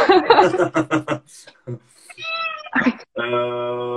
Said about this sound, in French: si vous entendez mon chat miauler